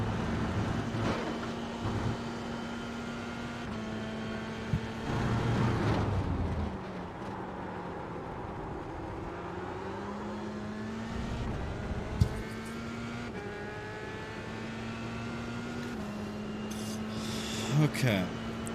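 Dallara F3 open-wheel race car in iRacing, its steady engine drone holding a constant pitch, briefly dipping and shifting at a quick upshift midway, with faint tire rub; someone talks over it throughout.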